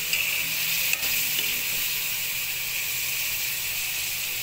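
Chili leaves and moringa fry in hot oil with tomato, garlic, onion and ginger, giving a steady soft sizzle and hiss with a brief clink of stirring near the start.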